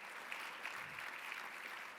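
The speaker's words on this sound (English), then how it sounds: "let's also give a thunderous round of applause to Justin and Bethany" An audience at a spring gala at Drury Lane applauding, steady dense clapping throughout at moderate distance, with no voices over it.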